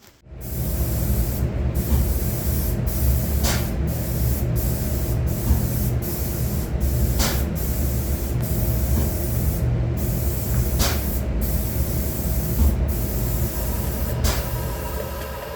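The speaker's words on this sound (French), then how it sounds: "la première couche qui est appliquée au pistolet de façon croisée" A spray gun lays down the first crosswise coat of finish on a guitar body. The hiss runs steady and loud, broken by short breaks and small puffs.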